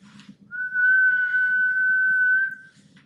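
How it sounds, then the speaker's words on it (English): A single steady whistled tone held for about two seconds into a microphone, clear and close, with a low background hum underneath and no talking. "consider three people whistling into a microphone"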